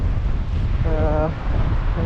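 Strong wind blowing outdoors in Canada on a cold April day after snowfall, a loud low buffeting rumble across the microphone throughout, with a brief voice in the middle.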